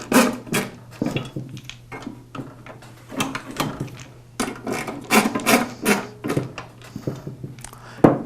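Screws being tightened on the detent plate of a DeWalt DW708 miter saw, a string of close rasping, scraping turns in irregular bursts over a low steady hum.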